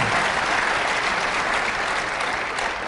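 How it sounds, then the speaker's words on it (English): Sustained, loud audience applause for the panelists at a forum event, steady clapping throughout with no talking over it. "we're going to move to questions, but not without first giving our panelists a round of applause"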